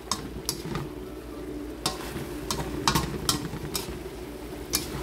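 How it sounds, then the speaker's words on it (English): A spoon stirs chicken livers with vegetables in a sizzling pan, steady frying hiss under intermittent scrapes and light clinks against the pan, close and moderately quiet. "So for our final touches, we'll just give a good stir."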